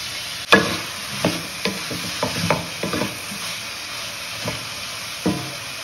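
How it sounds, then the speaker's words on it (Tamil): Capsicum, corn and broccoli are sautéed in a pan for white sauce pasta, with a soft background sizzle and a series of scraping, tapping spatula strokes, the first knock the loudest, and no talking. "இப்போ குடமிளகா, கார்ன் எல்லாத்தையும் போட்டுக்கலாம். வதக்கி விடலாம்."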